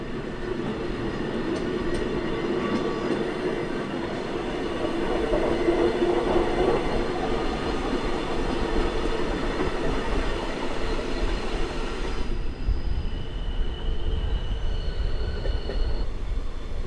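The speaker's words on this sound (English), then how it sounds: "our train starts moving" A Swiss Glacier Express train starts moving and rolls along the rails, with wheel squeal and rhythmic clacking, loud and close, steady throughout with no talking.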